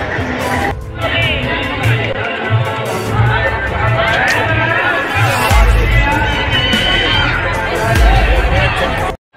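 Dense festival crowd at the 2022 Sardotsava fair in Pithoragarh, a continuous hubbub of overlapping voices and chatter with low rumbling beneath, steady and close throughout.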